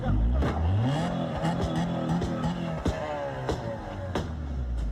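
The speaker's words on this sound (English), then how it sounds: "Turn off the car. Cut the car." Car engine running and revving during a tense police-style confrontation, a rising and falling motor drone with shifting pitch, close and fairly loud, mixed with clatter and impacts while people shout nearby.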